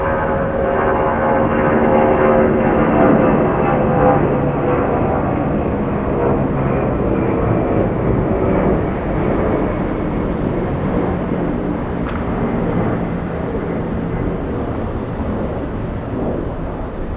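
A Delta airliner moving at Atlanta Hartsfield-Jackson airport produces a loud, sustained jet engine roar that swells and slowly fades over several seconds, heard from the ground without talk.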